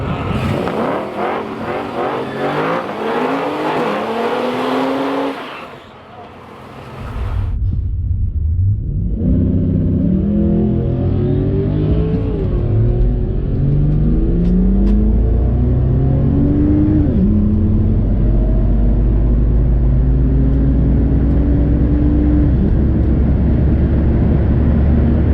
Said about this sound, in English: Stall it up and feed more throttle and load into it on the launch each time